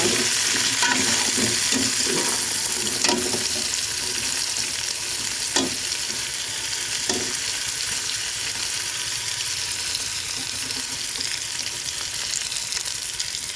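Ingredients for miswa with patola being mixed in a hot frying pan, a continuous close sizzle punctuated by several scraping and knocking strokes of a spatula, early strokes coming in a quick rhythm, with no voices.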